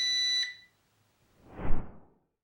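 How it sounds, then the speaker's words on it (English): A JJRC H28 quadcopter transmitter gives a single high-pitched electronic beep, steady and clear, that cuts off abruptly, followed by a brief soft rustling thump. "the incessant beeping of the transmitter"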